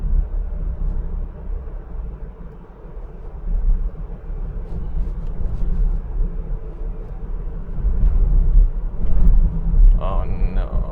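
A VW Multivan drives up the Glaubenbielen Pass in Switzerland on an alpine road. Cabin engine and road rumble stays steady and low throughout, with wind noise rising and falling.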